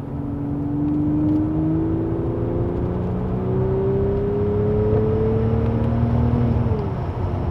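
A V12 BMW 7 Series pulls hard through third gear, its engine note rising smoothly and steadily for several seconds as the car accelerates to about 80, loud and continuous from inside the cabin, with no talking.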